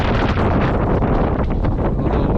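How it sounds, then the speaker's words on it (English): Steady wind buffeting a microphone outdoors on a building site where concrete block pillars are being laid, a loud continuous rumble filling the whole moment with no voices. "A little windy."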